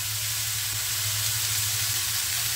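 Garlic paste sizzling on a hot tawa with broccoli, a steady loud dense frying hiss with a low hum beneath, continuous throughout.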